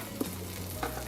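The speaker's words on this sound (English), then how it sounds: "now we can start cooking some garlic" Garlic frying in a cast iron skillet in leftover bacon fat, a steady close sizzle with two soft stirring scrapes.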